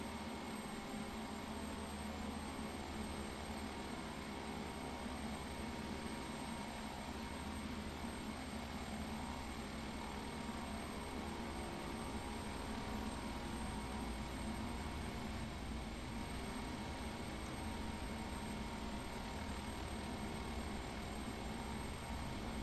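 Steady jet engine drone of an airliner taxiing in Microsoft Flight Simulator X, a constant broadband roar with a whining high tone, loud and unbroken throughout with no talk.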